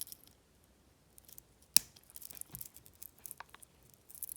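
Cutters snip jewellery wire to finish a wrapped loop for earrings, one sharp close click followed by faint small handling taps and rustles in a quiet room.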